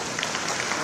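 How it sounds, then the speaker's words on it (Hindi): A crowd at a Jaipur felicitation event for the chief minister claps loudly, a steady dense wash of applause from many hands with no pauses, heard at moderate distance. "एक बार जोर से तालियां बजाओ।"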